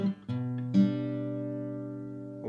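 Acoustic guitar playing a short transition in a fingerpicked folk ballad, a few plucked notes and a chord left ringing out, close and quiet with no speech.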